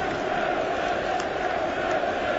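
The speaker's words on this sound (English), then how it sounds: "Applause from the Chelsea fans" Chelsea supporters, masked and socially distanced in the stadium during a match against Leeds United, give a steady, far-off wash of applause and crowd noise, with no distinct individual sounds standing out.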